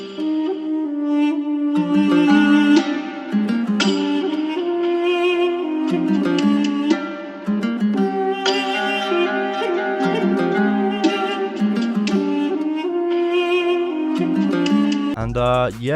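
Arabic-style trap melody built in FL Studio, a busy plucked and bowed lead line with EQ thinning the low end and reverb added, playing continuously and loud with no talk, ending in a brief swell.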